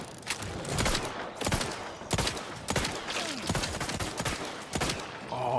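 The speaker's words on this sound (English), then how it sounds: "if you just hip fire and fan the flames" A revolver fanned from the hip in Outer Worlds 2 fires sharp, loud shots in a steady rhythm, roughly one every half second, each with a short ringing tail.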